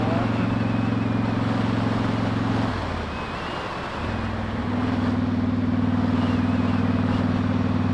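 Honda VTX 1300 motorcycle cruising on an Ontario road, its loud steady engine drone and wind rumble holding throughout, with a brief dip and shift in pitch partway through like a gear change.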